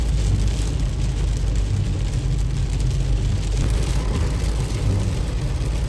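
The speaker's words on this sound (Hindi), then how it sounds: "बारिश माशाल्लाह रुकने का नाम ही नहीं ले रही।" Heavy rain pours down while driving through Madina, a dense steady hiss and drumming over the car's low road rumble, continuous and loud with no talk.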